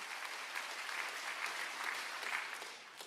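A church congregation at a Korean summer worship service applauds in a steady, moderately loud round of clapping that holds evenly before fading slightly at the end.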